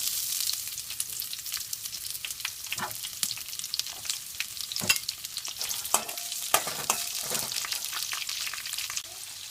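Onions fry in hot oil in a pan for a drumstick and field bean curry, giving a steady sizzle broken by irregular scraping strokes of a spoon, close and moderately loud with no talking.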